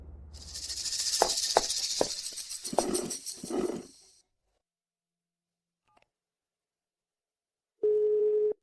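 A telephone line after a number is dialed: rapid key tones and clicks come first, then silence, then a steady electronic busy tone starts near the end.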